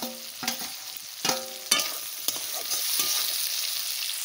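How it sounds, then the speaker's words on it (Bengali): Fish stirred into a pan of boiled vegetables such as pointed gourd and teasel gourd for bharta, with several clattering spoon scrapes against the pan over a soft, rising sizzle, no voices. "আমি এই মাছগুলো দিয়ে দিচ্ছি এর ভিতরে।"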